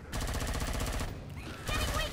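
Rapid automatic gunfire from a Commando in the co-op shooter Killing Floor 2, a quick stream of shots in two bursts separated by a short gap, moderately loud.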